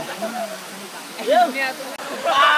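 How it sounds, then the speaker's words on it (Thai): Khlong Nam Lai waterfall pours with a steady broadband rush of flowing water, while someone talks over it close by. "นี่คือน้ำตกของน้ำไหลนะคะ"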